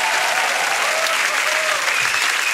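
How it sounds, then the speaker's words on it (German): A studio audience at a German talk show claps in a dense, even burst of applause, loud and close, with no talk over it. "Großer Applaus, völlig berechtigt."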